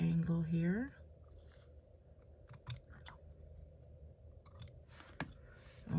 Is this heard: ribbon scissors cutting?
yes